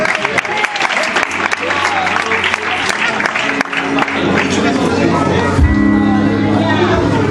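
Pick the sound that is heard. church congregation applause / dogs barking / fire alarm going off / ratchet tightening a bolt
church congregation applause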